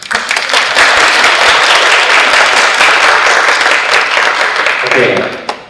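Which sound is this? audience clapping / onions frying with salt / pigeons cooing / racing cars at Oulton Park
audience clapping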